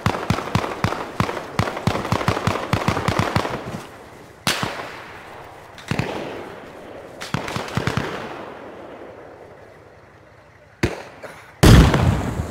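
Rapid suppressing gunfire in Arma Reforger: a dense string of sharp loud shots followed by sparser single cracks and bursts echoing out, with brief quiet gaps between volleys and faint voices.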